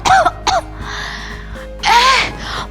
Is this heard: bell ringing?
no